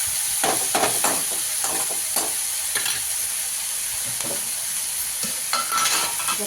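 Onion, garlic and dal fry in a pan with a steady close sizzle, punctuated by irregular scraping knocks of a spoon stirring the mixture; no one speaks.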